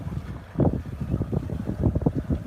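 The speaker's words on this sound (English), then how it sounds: "Zipping along in a little Mercury outboard with a little Mercury dinghy" A small Mercury dinghy with a little Mercury outboard motor zips past on the water, giving a low, pulsing engine rumble that swells and wavers, mixed with wind buffeting the microphone.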